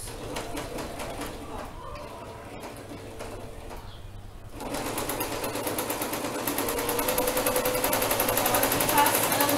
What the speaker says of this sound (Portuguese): Vou passar uma costura reta aqui, juntando todos os lados.